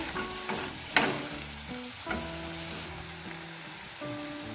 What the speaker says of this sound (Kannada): ಮೆಂತ್ಯ ಸೊಪ್ಪು ಚೆನ್ನಾಗಿ ಬಾಡುವವರೆಗೆ ನಾವು ಫ್ರೈ ಮಾಡ್ಕೋಬೇಕಾಗುತ್ತೆ